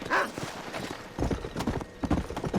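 Horse hooves clip-clop at a walking pace in a Red Dead Redemption game, the steady, moderately close hoofbeats running in uneven bursts throughout.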